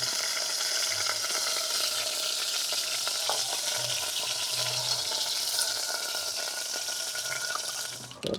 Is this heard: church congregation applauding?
no